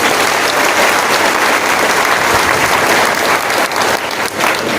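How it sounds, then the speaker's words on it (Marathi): A large crowd at a political rally in Kolhapur claps loudly and continuously, a dense sustained roar of applause with no break. "खरं तर सर्वप्रथम जोरात टाळ्या संजय भाऊ विभूते आणि त्यांच्या टीम साठी झाल्या पाहिजे"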